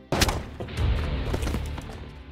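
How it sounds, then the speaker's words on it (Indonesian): A sharp gunshot in a film scene cracks out loudly near the start, followed by echoing rumble and a second fainter report as the reverberation fades. "Akan tetapi Marshall tetap memutuskan untuk menembak"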